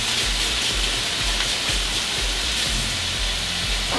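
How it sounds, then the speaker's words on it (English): Water runs steadily from a kitchen tap as hands are washed, a constant close splashing hiss with no gaps and no voices. "Wash my hands."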